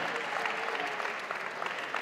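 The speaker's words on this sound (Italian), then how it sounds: "meritano l'applauso di tutti quanti" Steady applause rises from the crowd at a youth football club's Christmas greetings event, a dense, continuous wash of many hands clapping with no voices on top.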